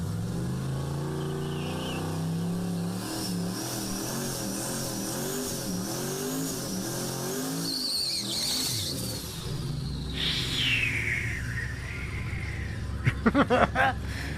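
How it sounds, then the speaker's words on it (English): A big-turbo drag racing truck engine at a drag strip revs and climbs in pitch with wavering turbo whine, a continuous fairly distant roar that surges and then drops away near the end. "Boy, oh boy, sounds like one big turbo to me."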